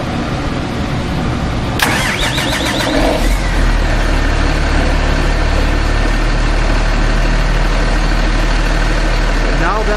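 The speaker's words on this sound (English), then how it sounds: "Once the light has gone out, you can start the vehicle engine or start the pump engine." Vehicle engine on a pump apparatus being started: a brief cranking burst gives way to a loud, steady idle that rumbles on close by for the rest of the stretch.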